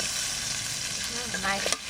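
Fish pieces sauté in spices in a pan with a continuous close sizzle and a few scrapes of stirring. A brief clatter comes near the end.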